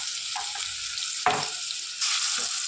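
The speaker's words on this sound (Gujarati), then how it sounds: "રઈ આપણી તતરી ગઈ છે" Mustard seeds spluttering in hot oil with garlic and green chillies, ahead of cabbage and potato: a steady close sizzle broken by a few sharp pops and crackles.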